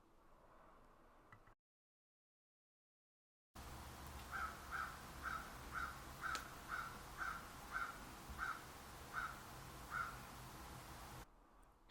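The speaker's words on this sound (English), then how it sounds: "we've got crow sounds" About a dozen crows caw outdoors in a regular, evenly spaced series of harsh calls, moderately distant, over a low background hiss after a brief silent gap.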